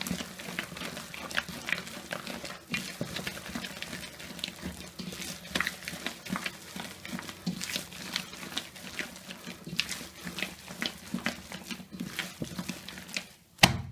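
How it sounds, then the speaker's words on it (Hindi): Wet, squelchy slapping and sloshing of thick urad dal (lentil) batter being beaten by hand, a steady repetitive rhythm up close, fairly quiet throughout. "दाल को इस तरह से पटकते हुए फेंटें जिससे दाल हल्की हो जाए।"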